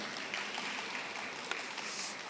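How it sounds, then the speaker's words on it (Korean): A large audience at a public-sector job fair talk concert claps steadily in a continuous, fairly soft wash of applause with no one speaking over it. "다시 한번 큰 박수 부탁드리도록 하겠습니다"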